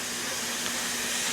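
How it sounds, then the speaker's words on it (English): Ground beef and onions fry in a pan with a steady, dense sizzle and hiss, close up and continuous for a short moment with no voices. "We got a lot of sizzling action going on."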